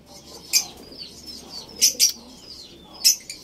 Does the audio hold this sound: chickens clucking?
no